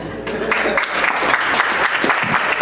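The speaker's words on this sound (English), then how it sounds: "Yeah, applause for Natalie" Audience applause at an open mic night in a music and arts program hall, a steady wash of clapping from a small crowd that holds for several seconds without a break.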